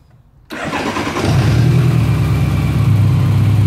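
BMW K1200 motorcycle cranks over from silence, catches and settles straight into a loud, steady idle, the engine close and alone with no voices.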